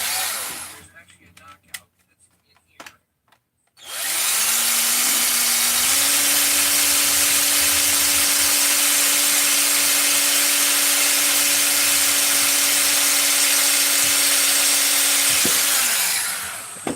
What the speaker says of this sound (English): There's actually a knockout that's in here that I just drill a hole in